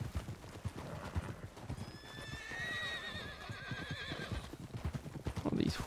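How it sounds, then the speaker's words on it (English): Horses in the Red Dead Redemption 2 video game whinny and neigh in rising, wavering calls over a steady run of hoof clip-clops, the hoofbeats continuing throughout at moderate loudness. "All these horsies. Very pretty."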